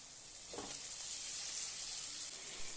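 Marinated prawns drop into a hot pan of onion and spices, bursting into a sudden loud sizzle that settles into a steady, close frying hiss.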